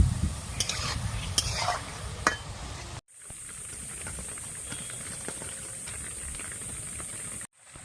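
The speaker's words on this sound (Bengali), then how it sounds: "একই রকম ভাবে আমি সবগুলো গুলগুলি ভেজে নেব।" Sweet palm fruit fritters (taler bora) fry in hot oil, first with clattering stirs and a loud bubbling fry, then a steady hissing sizzle with light clicks after a brief cut.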